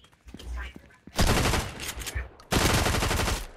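Two long, loud bursts of rapid automatic gunfire in Fortnite, each sustaining for over a second close up, separated by a brief pause.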